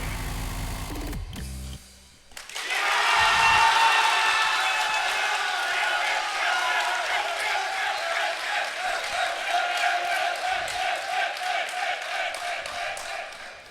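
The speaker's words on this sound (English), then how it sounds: "you can just hear huge cheers from the crowd for Okinamo after that break point" A live esports crowd at an osu! final roars and cheers for Okinamo after a break point, a loud sustained swell of voices beginning after a brief cut and holding for over ten seconds.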